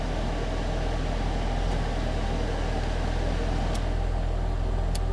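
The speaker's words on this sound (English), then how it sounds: "Can you hear the exhaust?" A car's exhaust rumbles at a steady idle close by, a constant low drone with only a couple of faint ticks over it and no voices.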